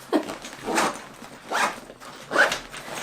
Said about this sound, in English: And then you just zip it back up.